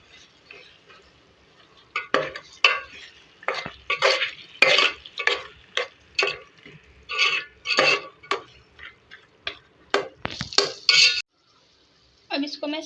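Beef bhuna gosht being stirred in a pan, a close run of rhythmic scraping and clanking of a spoon against metal with soft sizzling beneath, stopping briefly near the end.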